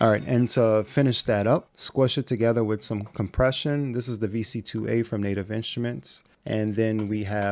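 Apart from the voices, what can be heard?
No everyday noises stand out.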